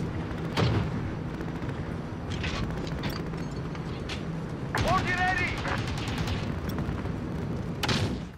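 A C-130 gunship opens fire in Call of Duty, heavy booming cannon and gunfire bursts rolling over a constant engine drone, with radio-style voices speaking over the battle.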